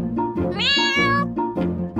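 A cat gives a drawn-out, rising meow, framed by shorter chirpy vocal sounds before and after.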